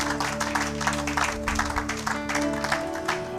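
A church congregation claps along in rhythmic bursts over sustained music with steady tones, the applause moderately loud and continuous throughout.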